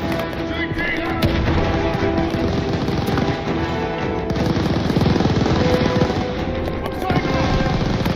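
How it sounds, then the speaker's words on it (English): Controlled tap-firing of a gun in the shooter Call of Duty Vanguard, loud repeated short bursts packed tightly over continuous battle noise, with a brief pause before firing resumes. "Always jumping the tap fire is the way to go with this gun."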